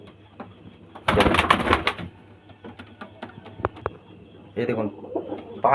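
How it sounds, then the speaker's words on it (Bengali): Kaldum pigeons, big-sized birds kept for sale, coo softly and repeatedly close by, with a louder burst of wing or handling noise and someone talking over them at times. "কালদুমা পেয়ারা দেখুন একদম ফ্রেশ কালদুমা পায়রা একদম বিগ সাইজের"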